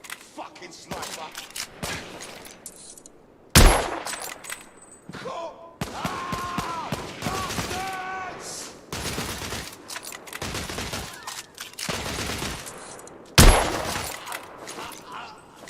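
Gunfire in the video game The Order: 1886, a long exchange of sharp, loud shots and bursts with a few heavy booming hits, scattered across the clip, while voices shout and talk over the fighting.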